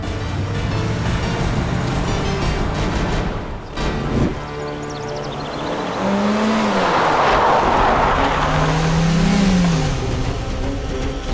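A car revs and accelerates hard on its way to a camp, engine pitch climbing and swooping past with a loud, sustained roar after a brief dip.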